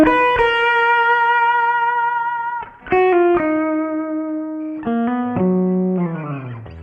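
Distorted electric guitar through an amplifier holding sustained notes with slides and bends, with a light touch of room reverb added around the tone.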